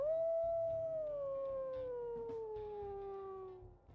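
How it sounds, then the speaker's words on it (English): A wolf named Periwinkle gives a single long, sustained howl that glides slowly downward in pitch, loud and close, with soft low rumbling underneath and the tone thinning out at the very end. "we can also go ahead and listen to her howls"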